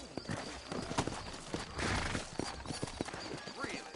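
Irregular horse hoofbeats clip-clop along in Red Dead Redemption while a voice talks over them, and a horse's whinny rises briefly midway.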